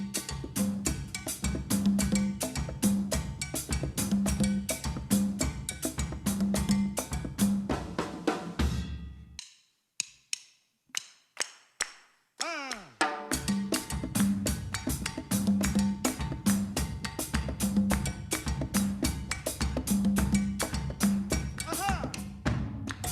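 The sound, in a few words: Haitian compas rhythm with cowbell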